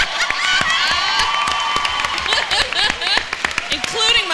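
An anime convention audience at SacAnime Winter 2019 claps and cheers loudly for several seconds, with whoops and shouts rising over dense clapping.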